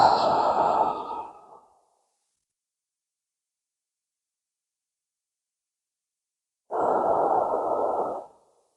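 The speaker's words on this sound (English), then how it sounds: "I'm just going to take a few deep breaths." Two deep breaths from a person curled in a fetal position, each a long, close, audible breath lasting over a second, separated by several seconds of silence.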